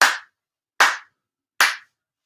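Three evenly spaced, sharp hand claps ring out during a Shinto-style New Year prayer ceremony, each crisp and close, with silence between them.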